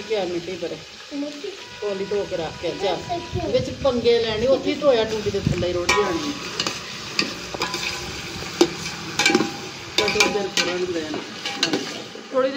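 Food sizzles and fries in a pan while a spoon scrapes and stirs it in irregular strokes, close and fairly loud, with someone talking over the cooking.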